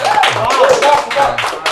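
Hands clap in a quick, irregular burst, close and fairly loud, with voices talking over them in a podcast studio setting.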